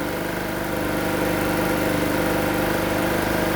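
A free generator's small engine runs steadily up close with a constant mechanical drone, slightly uneven and surging a little, from a carburetor that still needs cleaning.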